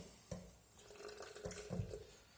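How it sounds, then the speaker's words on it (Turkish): Water is poured into a sourdough starter in a kitchen, giving a few short splashing bursts against a soft background with no talking. "biraz suyunu koyayım"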